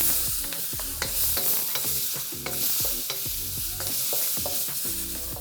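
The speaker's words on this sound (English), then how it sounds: "I'm gonna go in with some chilli and some ginger" Chilli, ginger and garlic frying and being stirred in hot oil for chow mein, a steady close sizzle broken by repeated scraping and tapping of the utensil against the pan, with no talking.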